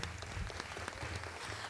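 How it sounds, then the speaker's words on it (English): Brief, faint audience applause for judicial candidates at a Philadelphia community forum, distant scattered clapping over a low background hum. "So give them another round of applause."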